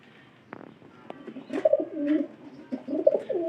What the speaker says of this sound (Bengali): পায়রাটার কিন্তু ডাক অনেকটা ভালো আছে এই কবুতরের